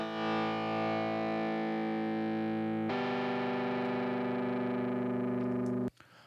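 Sustained Rhodes electric piano sample chords heavily distorted into a buzzing, gritty drone, changing to a new chord midway before cutting off abruptly.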